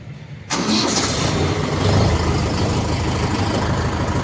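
A brief starter whir followed by a Mahindra Yuvo Tech+ 575 DI diesel tractor engine catching and settling into a loud, steady idle close by.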